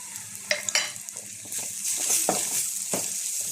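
Masala with crushed ginger and garlic sautéing in a pan, a continuous sizzle broken by sharp scraping and stirring clicks from a spoon, close and clear with no talking.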